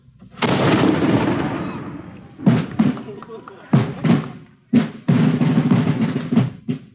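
An artillery gun fires with a deep, loud boom that rolls on for over a second, followed by several heavy thuds and bursts in an outdoor setting, with speech-like sound mixed in.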